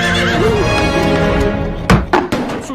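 A horse neighs and whinnies in a medieval setting, a sustained harmonic cry over background music, followed by a few sharp thumps near the end.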